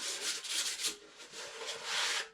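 Model parts are sanded by hand in quick, rasping back-and-forth strokes that come in bursts, close and fairly quiet, with no voices over them.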